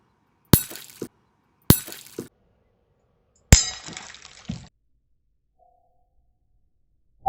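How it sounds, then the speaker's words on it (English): Glass Prince Rupert's drops bursting as the tail is snipped with pliers: three sharp cracking shatters, each followed by a short tinkling scatter of fragments, loud and close with quiet gaps between. "when I clipped the tail of the last Prince Rupert drop, it exploded without almost any warning"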